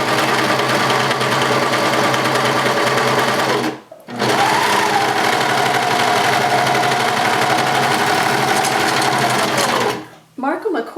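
A serger overlock sewing machine runs steadily while stitching a test sample at a 2 length and 5 width, a loud, fast, even whir that stops briefly once and then resumes.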